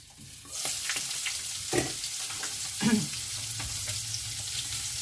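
Zucchini pieces fry in a covered pan with a dense, continuous sizzle that stays loud and even, with a couple of brief scraping sounds.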